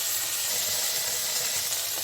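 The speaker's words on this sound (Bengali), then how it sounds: "ওই জন্য আমি হাই হিটে ভাজছি" Steady, loud sizzling of okra frying on high heat, a continuous hissing crackle with no voices.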